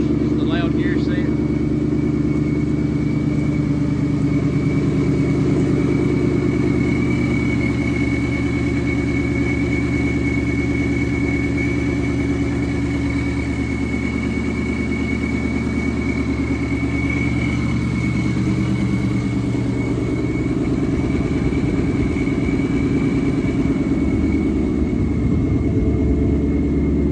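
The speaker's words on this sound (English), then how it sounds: "It does have the straight cut gears, the loud gear set." A 2018 Mustang GT fitted with a loud straight-cut gear set and long-tube headers runs steadily nearby, its low engine rumble continuous throughout while someone talks over it.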